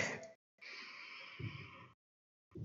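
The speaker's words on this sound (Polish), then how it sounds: "Zróbmy głęboki wdech i wydech." A single person takes a deep breath in and then breathes out slowly and audibly during a beginner yoga session, close and quiet, with brief silences around it.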